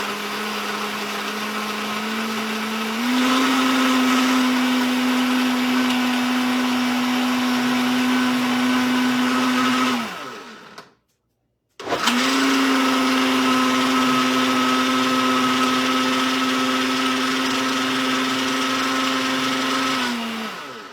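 A blender whirs loudly while mixing a high-protein smoothie, climbing to a steady high whine, cutting out briefly, then running again at full speed for about ten more seconds.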